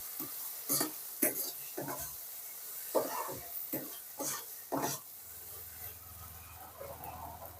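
Banana flower and prawn curry being sautéed and stirred in a pan with a little sugar, cooking down until dry; a run of scraping stirs and soft sizzling, repeated every half second or so, then a steady low hiss.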